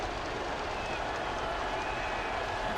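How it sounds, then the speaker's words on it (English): A home basketball arena crowd in an NBA playoff game between the Boston Celtics and Milwaukee Bucks roars steadily to distract a shooter, a thick, continuous wall of noise with no breaks. "See the crowd's trying to get him to miss with all that noise."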